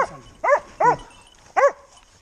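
A hunting dog after a wild boar hunt near Nallıhan, Ankara, gives three sharp, close barks spaced apart, with a faint whimpering whine between them.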